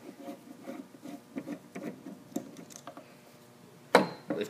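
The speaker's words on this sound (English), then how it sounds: "Remove your screw in the center." Center screw being backed out of a Marble Products 500 shampoo bowl faucet handle, a run of small close clicks and taps followed by one sharper knock near the end.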